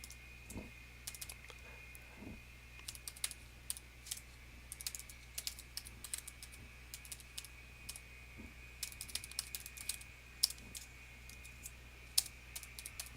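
Steady manual typing on a computer keyboard, quiet but continuous key clicks in uneven bursts with brief pauses, heard close and alone with no speech.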